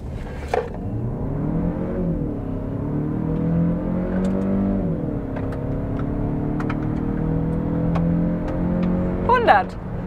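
A Kia Sportage GT-Line in sport mode accelerates from a braked start, the engine rising and shifting through gears in a steady cabin drone for ten seconds, with occasional clicks and a brief voice near the end.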